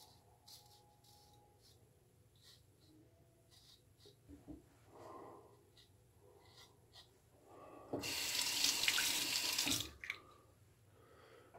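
A bathroom tap runs for about two seconds to rinse a shaving razor, a loud splashing gush rising after quieter scattered clinks and faint movements, then cutting off.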